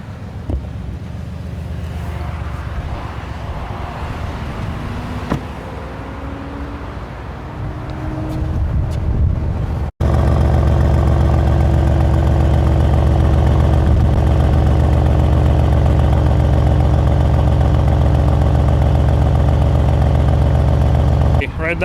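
A 2019 Mercedes-AMG C63 S estate's V8 starts and settles into a loud, steady idle with the exhaust open, following a stretch of quieter ambient noise and talking.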